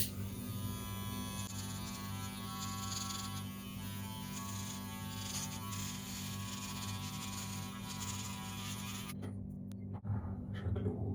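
An old, never-used electric shaver, about 55 years old, buzzes steadily with a droning hum while trimming a sideburn, close and faint, then cuts off abruptly near the end.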